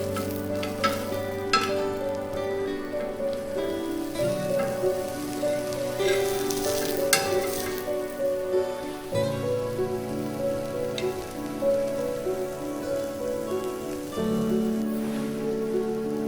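Garlic bread frying in a pan after being flipped, a soft steady sizzle beneath sustained background music with changing tones, no voices.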